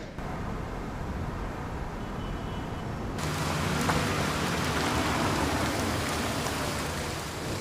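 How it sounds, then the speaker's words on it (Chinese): Steady rain falling at night outside a restaurant, a continuous hiss of drops on surfaces that grows louder about three seconds in and stays even, with no voices. "下雨了，你们带伞了吗？"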